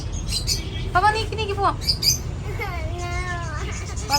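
Small bird chirps and tweets in short bursts, close by, mixed with a person talking over them.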